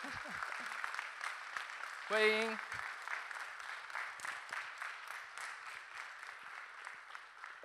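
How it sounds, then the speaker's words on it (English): A hall full of retreat participants claps steadily, dense applause continuing throughout, with a brief spoken word breaking through partway. "Let's give them a round of applause."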